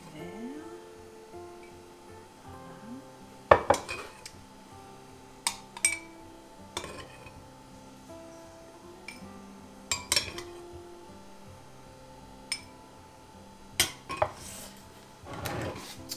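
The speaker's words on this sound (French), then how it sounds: "je vais mettre un peu de sirop. Mon sirop de pomme dans les verres." Glasses and kitchenware clink and knock in a handful of sharp, scattered hits while apple syrup is poured into the glasses, with quiet handling sounds between them and no talking.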